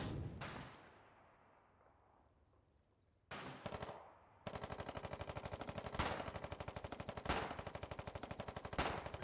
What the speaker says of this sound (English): Machine gun on that guy right there.